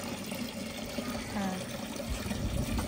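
Tap water runs steadily during a wudu ablution, a continuous close splashing stream that fills the whole stretch, with voices faintly mixed in.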